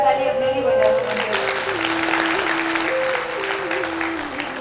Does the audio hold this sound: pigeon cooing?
no